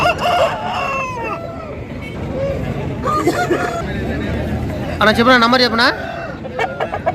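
Aseel roosters crow repeatedly at a busy Saturday poultry market in Mydukur, Kadapa district, with loud nearby calls rising over crowd babble while someone talks close by.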